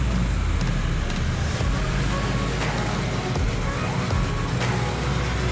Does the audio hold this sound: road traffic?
yes